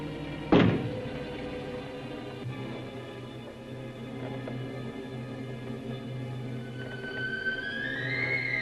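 A single sharp knock on a closet door in a 1962 sci-fi horror film, one loud thud followed by a low, eerie sustained score.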